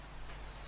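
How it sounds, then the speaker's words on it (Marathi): Steady rain falls in Minecraft, a soft continuous hiss that stays even and fairly quiet for its brief length, with no voices over it. "आणि सध्या तर पाऊस पडले बघा"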